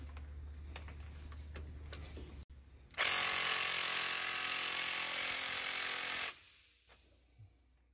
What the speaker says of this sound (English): the impact wrench isn't cutting it